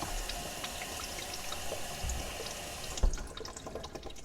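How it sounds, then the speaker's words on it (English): Kitchen sink tap running steadily as water pours down a partly clogged drain beside a disposal unit, a continuous close splashing hiss with a brief knock near the end. "when I turn on the tap on the other side of the sink, the water goes down"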